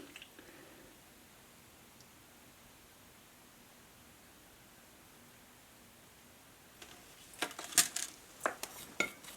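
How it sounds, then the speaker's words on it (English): Soldering iron tip wiped on a damp sponge and brass-copper shavings while wiring an SMD part, a cluster of quick scrapes and clinks near the end after several seconds of quiet. "Clean off our solder tip on our sponge, and I keep some of that copper shavings too"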